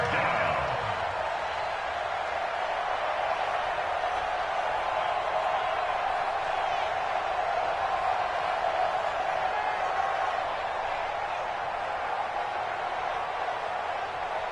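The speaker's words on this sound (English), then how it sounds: "the crowd getting into it as we come up on a big 3rd down" Football stadium crowd cheering ahead of a big third down in a WIT Falcons versus Vikings game, a steady distant roar of many voices holding at an even level throughout.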